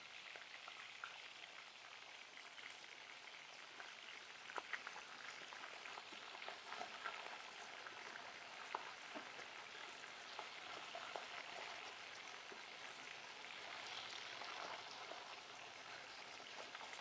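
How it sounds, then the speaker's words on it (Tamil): Steady crackling sizzle of fish frying in hot oil, a dense continuous hiss with scattered pops, fairly faint and with no voices. "எண்ணெய் நல்லா சூடாயிட்டு இப்போ மீன் ஒவ்வொன்றா போடுவோம்"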